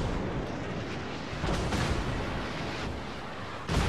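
In World of Warships, the naval guns of the USS Alabama and distant enemy cruisers fire and land in a series of heavy booms and rumbling blasts, with a loud fresh shot at the end.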